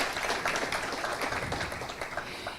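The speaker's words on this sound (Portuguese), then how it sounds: "Uma salva de palmas." Audience applause at a business and innovation forum, a dense patter of many hands clapping steadily throughout, fairly close and gradually tapering near the end.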